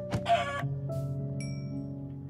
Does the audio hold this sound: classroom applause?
no